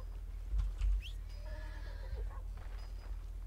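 A horse in the Red Dead Redemption 2 video game gives a clear whinny with a rising, wavering neigh, preceded by a couple of heavy hoof thuds, all at moderate level over a low ambient rumble.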